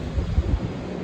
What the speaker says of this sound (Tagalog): Narinig niyo ba yung ang lakas ng hangin?